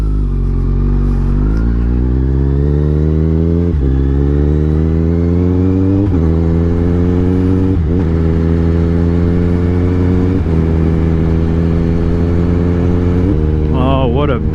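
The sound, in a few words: Kawasaki Ninja 1000 ABS motorcycle riding after cold start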